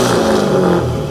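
A modified 1998 Corvette V8 revs loudly up close in a steady, dense roar lasting about a second, with a slight rise in pitch near the end.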